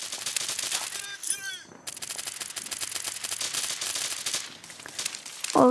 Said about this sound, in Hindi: इन्होंने लगा दिया गोलियां बुलेटें।